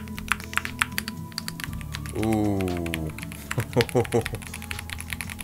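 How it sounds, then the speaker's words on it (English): Typing on a Keychron Q5 HE wireless keyboard with red switches produces a rapid run of close, crisp keystrokes, broken by a short drawn-out vocal exclamation from a person. "This is one of the best feeling keyboard switches I've ever felt."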